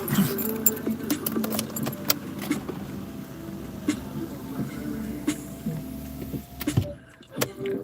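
Keys jangle and clink repeatedly in short metallic bursts close by, with faint car interior sounds and a soft whir underneath, ending in a brief pause and a final rattle.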